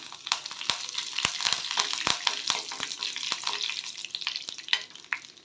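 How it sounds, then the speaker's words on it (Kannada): Dried red chillies and curry leaves sizzle and crackle in hot oil for a tempering, with sharp popping bursts scattered throughout and a continuous frying hiss underneath. "ಇದು ಕೆಂಪಾಗೋ ತನಕ ಫ್ರೈ ಮಾಡ್ಕೋಬೇಕು"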